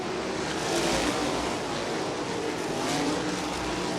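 USAC sprint cars racing on the Ocala Speedway dirt track during a winter dirt event, a steady broadband engine roar with distant crowd-like wash, rising and falling slightly as the field circulates.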